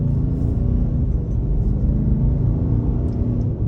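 A 2022 Nissan Titan Pro-4X pickup pulls away at about one-third throttle, its engine giving a steady, loud, low rumble that holds even throughout with no voices over it.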